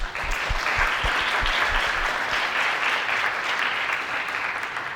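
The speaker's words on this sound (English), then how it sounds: "Let's give them a big applause to thank for their wonderful performance." Audience applause at a Lunar New Year celebration event in Rockville following a student performance: a steady, dense wash of clapping from a full crowd, loud and sustained throughout.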